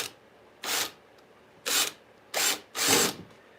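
A drill bit center-drills into wood in four separate bursts, each lasting about a quarter to half a second with short gaps between them. The bursts are close and moderately loud against a quiet background.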